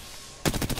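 Rapid automatic gunfire in the shooter game Apex Legends bursts out after a quiet pause, several loud, close shots in quick succession.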